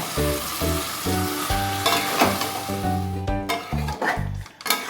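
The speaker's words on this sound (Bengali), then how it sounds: "এবার আমি খুব ভালো করে কষবো।" Chicken curry with raw mango sizzling in a pan over a low-to-medium gas flame while being stirred, a steady loud frying hiss with scraping stir strokes and occasional clinks, close up and without talk.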